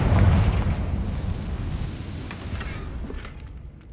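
A Confringo fire spell from the video game Hogwarts Legacy erupts in a heavy, rumbling explosion that hits loudest at once, then slowly decays into a long fading roar with faint crackles.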